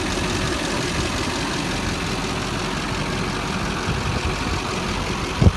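A 2007 Chevrolet LBZ diesel idles steadily and close by, a smooth even low rumble with faint ticking, holding constant with no voices.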